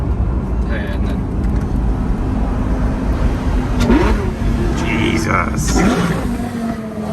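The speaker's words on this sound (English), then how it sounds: "You can hear that motor whirring away just behind you here." Lamborghini Gallardo Gen 1 Superleggera engine running and revving nearby, a steady mid-pitched motor drone with short rising revs, heard under people talking.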